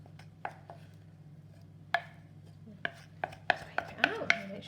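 Honey cake batter being scraped from a bowl with a utensil gives a series of sharp knocks and scrapes, sparse at first, then quicker and louder toward the end over a faint low hum.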